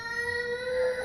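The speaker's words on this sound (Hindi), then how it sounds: "वो किसी बच्चे की रोने की आवाज थी।" A child's crying as a sound effect, a single sustained, tonal wail held for about a second at moderate loudness with no talk over it.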